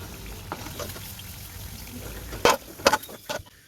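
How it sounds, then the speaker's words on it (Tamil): Maida flour snacks sizzle steadily in hot oil for crispy golden deep-frying, with a few clattering scrapes near the end as pieces are lifted out. "இப்போ மீதி இருக்கிறதையும் இதே மாதிரி பொறிச்சு எடுத்துக்கலாம்"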